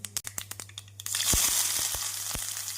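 Sharp crackles and pops of mustard and cumin seeds, then a sudden loud sizzle as onions hit hot sesame oil, hissing steadily with a few scattered pops.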